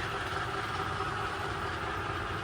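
An MTH Challenger model locomotive pulls a Walthers track cleaner along a layout track, giving a steady, unbroken whirring rumble at moderate level with no talk.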